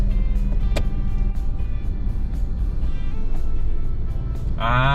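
Heavy road traffic on the SLEX expressway in the Philippines near the Calax entrance, heard from inside a moving car as a constant low engine and road rumble with occasional sharper passing sounds and a brief tonal whine at the end.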